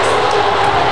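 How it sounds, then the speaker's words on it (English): A packed indoor track arena at an indoor national meet erupts in a loud, sustained roar of cheering as runners enter the final lap, dense and continuous throughout. "Oh, the crowd is going wild."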